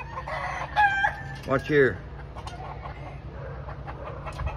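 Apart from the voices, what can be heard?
chickens clucking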